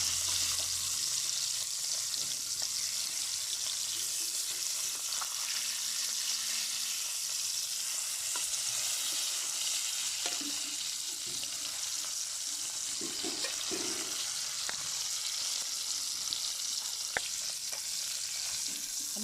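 Fish fries with garlic in a pan, giving a steady, soft sizzling hiss that carries on throughout, with occasional faint clinks and stirring sounds.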